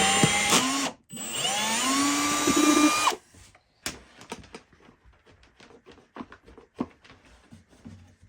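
A power drill whines at high speed as it bores down through the floor of an Ice Castle fish house, a loud, steady burst of about two seconds that cuts off abruptly and leaves scattered clicks and handling knocks.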